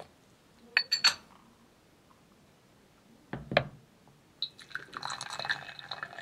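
Hot water at about 90 °C poured over white tea leaves to rinse them and warm a porcelain gaiwan and cup, with sharp clinks of the lid and cup followed by a steady close pour and trickling splash.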